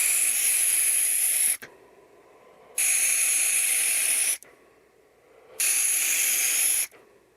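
Three long, steady hissing draws on a CoilART MAGE RTA tank with a 0.25 ohm coil of 24 gauge Kanthal, run at 50 watts with the airflow three-quarters open. Each pull lasts over a second and ends abruptly, with quiet pauses between.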